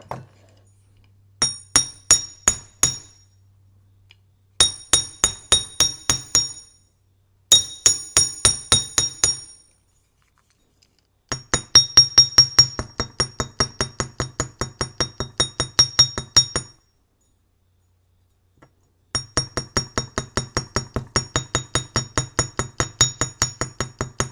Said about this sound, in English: Let's do some hammering too to kind of make it match.